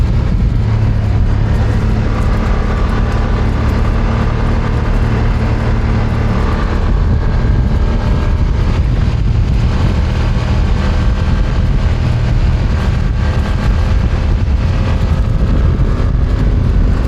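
A BMW F900R motorcycle engine roars loud and continuous at close range while accelerating, droning at high revs under heavy wind rush with no clear gear breaks or pauses.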